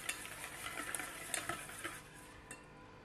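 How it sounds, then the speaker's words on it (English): Egg yolks and dijon mustard whisked in a mixing bowl, a quiet, steady scraping and ticking of the whisk against the bowl with no voices. "Whisk egg yolks and dijon mustard until thoroughly combined."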